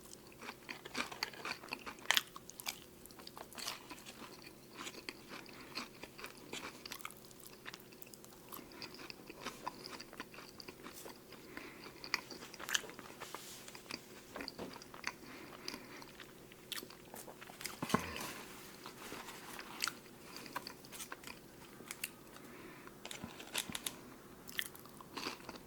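A double cheeseburger is bitten and chewed close to the microphone, with soft crunchy bites followed by steady, wet mastication that goes on continuously and quietly, with no talking.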